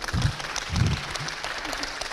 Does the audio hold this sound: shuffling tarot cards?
no